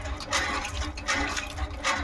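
Water gushing in pulses from a hand-operated pump for washing hands, each stroke pushing a splashing surge, three strong bursts with brief dips between, close by and without talking.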